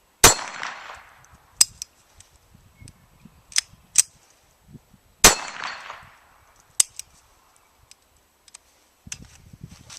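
Two sharp, loud reports from an SR22 pistol firing Winchester ammunition ring out about five seconds apart outdoors, each with a short decaying tail, amid scattered metallic clicks and clinks of handling between shots.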